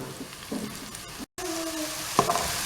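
Onion and bell pepper frying in a pan for a baked chicken pasta dish, a steady broadband sizzle with a few brief stirring knocks and scrapes, close and fairly loud with no talk.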